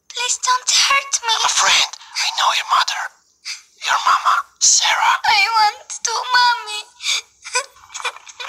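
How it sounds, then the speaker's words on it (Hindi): Little girl crying in the Rosemary Fate video game: wavering, breathy wails and sobs in repeated bursts with short pauses, fairly loud and close, with no other sounds. "अभी बच्ची की रोने की आवाज आ रही है"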